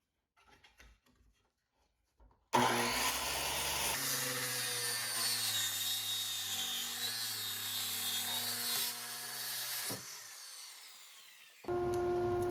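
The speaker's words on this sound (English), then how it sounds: "I cut the board in half to make it more manageable at the table saw." A table saw slices a live edge wood board in half, its loud steady whine and rough cutting roar running continuously for about nine seconds, then dropping away before the spinning blade swells again at the end.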